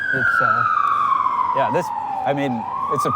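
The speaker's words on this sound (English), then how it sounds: "Where do you think that ambulance is going to that we can hear behind us?" An ambulance siren sounds loudly behind people on a street in a small community, its steady wail sliding slowly downward as it passes, while several voices talk over it in short bursts.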